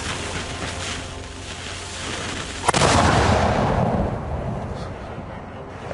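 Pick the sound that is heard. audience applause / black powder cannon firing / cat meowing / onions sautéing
black powder cannon firing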